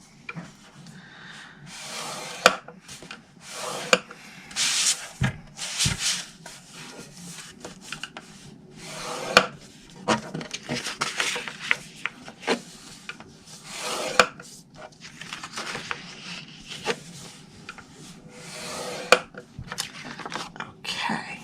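Cardstock being scored on all four sides for a square paper box, heard as repeated soft rubbing and scraping strokes with sharper taps, close and fairly quiet, with no one talking.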